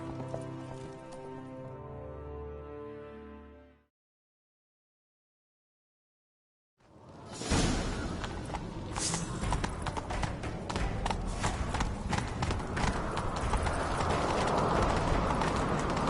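Video-game horse hooves pound in a rapid galloping rhythm, loud and close, after a sustained tonal passage and a brief silence, with no talking.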